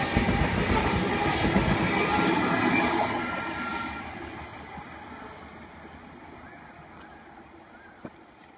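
An electric passenger train rumbles loudly past at close range arriving at a platform in Sydney, the roar easing and fading over several seconds, ending with a single sharp clank.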